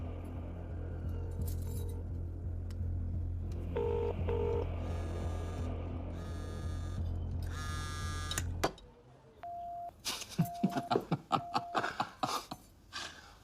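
A series of electronic telephone keypad tones, short beeps pressed one after another at an uneven pace, with clicks and a low hum underneath.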